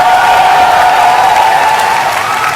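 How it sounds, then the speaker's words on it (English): A large crowd at the MLG Orlando 2011 StarCraft tournament cheers and applauds loudly and continuously for the player EGIdrA, a dense sustained roar of clapping and shouting. "we'll give one more cheer, guys, for EGIdrA"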